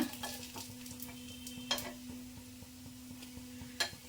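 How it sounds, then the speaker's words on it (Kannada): Cheese paddu made from a batter without idli or dosa batter fry in a pan with a constant soft sizzle, a faint steady hum beneath, and two brighter scraping clicks as they are turned. "ಸ್ವಲ್ಪ ಚೆನ್ನಾಗಿ ಫ್ರೈ ಆಗಬೇಕು"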